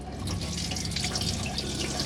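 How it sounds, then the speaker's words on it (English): Water runs steadily from a tap inside a 2015 Auto Trail Tracker EKS motorhome, fed by the onboard water pump, making a continuous close splashing hiss with no talk. "It's just showing that your water pump's working"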